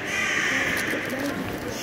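A crow caws in Milton Keynes city centre, a harsh call sounding fairly close over steady outdoor background noise.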